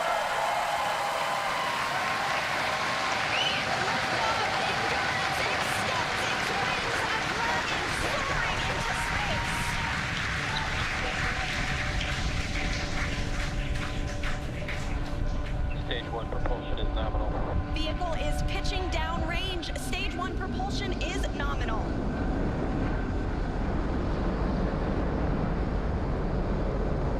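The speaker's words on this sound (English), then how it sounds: "Ignition. Engines full power. And liftoff." SpaceX Falcon 9 rocket carrying a Dragon crew capsule lifting off on the Crew-5 mission in October 2022, its engines producing a loud, continuous broadband roar that persists throughout, with voices speaking over it in the later part.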